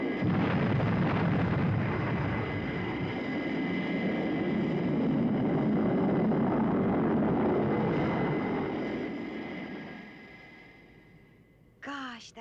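Retro rockets fire on a Thunderbirds craft, a loud sustained roaring blast that holds for about nine seconds, then fades away to a low rumble before a brief electronic sound at the end.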